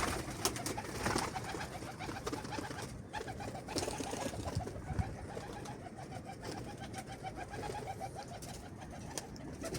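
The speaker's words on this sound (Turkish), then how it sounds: "Arkadaşlar kuş kalktı." Arab çapar pigeons flutter and stir in a steady, busy wash of wing noise and soft cooing at close range, with no speech.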